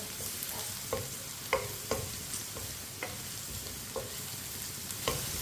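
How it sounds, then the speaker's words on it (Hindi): Sliced okra (bhindi) frying in a pan, a soft steady sizzle broken by regular scraping strokes of a spoon stirring roughly once a second, heard up close and without voices. "भिंडी को अच्छी तरह पकाना है, इसमें कच्चापन ना रहे।"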